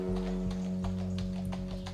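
Horse hooves clip-clopping on the streets of Napoleon III's Paris while pulling a carriage, a steady trotting rhythm under a sustained tonal hum.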